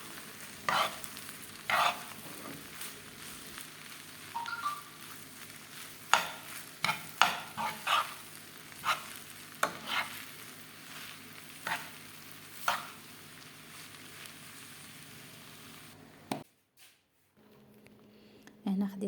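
Fish pieces and button mushrooms with butter stirred in a pan, a series of scattered scraping strokes over a soft background, dropping briefly to near silence before sounds resume at the end.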